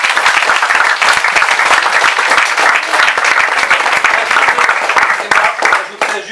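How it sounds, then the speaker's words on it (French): An audience at a school eloquence contest final applauds, dense sustained clapping from a crowd filling the hall, loud and continuous for several seconds before tapering slightly at the end. "je voudrais encore vous applaudir"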